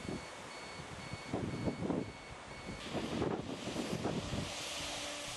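Strong wind during a red storm alert near the Brenta river, buffeting the microphone in loud, roaring gusts that swell and fade over a steady rushing background, with no voices.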